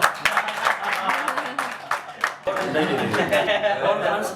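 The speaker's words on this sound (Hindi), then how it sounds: "इस बात पर ताली बजे।" An audience breaks into scattered clapping with light chuckles at a talk event, the claps crisp and close, continuing as a voice speaks over them.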